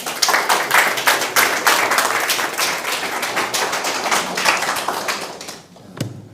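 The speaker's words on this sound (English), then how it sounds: "definitely a well-deserved round of applause for your astute financial management of the business" A room of attendees at a company's year-end financial results presentation gives a round of applause, dense sustained clapping that holds steady before tapering off near the end.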